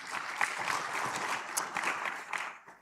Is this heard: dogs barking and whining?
no